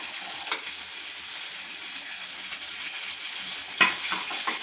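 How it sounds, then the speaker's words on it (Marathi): Pasta is tipped into a hot pan and stirred, giving a soft continuous sizzle with light scraping and a sharp clink of utensil on pan near the end. No one speaks. "आता मी पास्ता टाकते."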